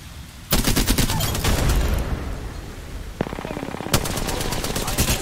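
Rapid automatic gunfire crackles in an Apex Legends match, two loud sustained bursts of evenly spaced shots separated by a short pause.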